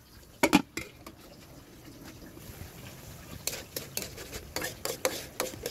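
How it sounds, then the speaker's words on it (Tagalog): Ground pork or meat and pechay stems are stirred in a pan, with scattered scraping and clacking utensil strokes and a soft bubbling sizzle, the stirring growing busier and denser in the last couple of seconds. "Okay, halo-haluin lang, tingnan hanggang sa lumambot na ang paklang."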